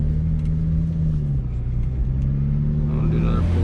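A turbocharged BMW 335i with a flashed tune pulls hard from inside the car, its engine drone loud and steady as it climbs in pitch under acceleration.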